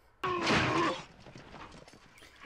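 Horse sounds from the 1975 film Monty Python and the Holy Grail: a sudden loud burst that may include a whinny, then fainter rhythmic clip-clop hoofbeats that fade over a couple of seconds.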